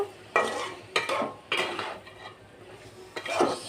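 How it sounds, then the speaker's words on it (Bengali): Tengra fish is stir-fried with vegetable stems in a pan, a close sizzle broken by several sharp scrapes and clinks of a metal spatula at irregular intervals, with no speech. "মাছ দিয়ে কিছুক্ষণ এভাবে কষাবো"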